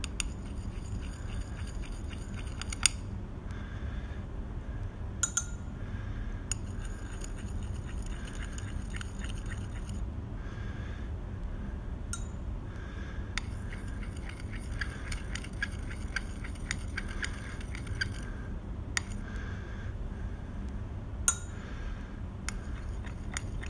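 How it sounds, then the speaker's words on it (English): A glass stir rod clinks against glass containers while mixing pH indicator solutions with water, sharp light taps spaced irregularly over a steady low background hum. "I'm going to take a stir rod and mix each of them."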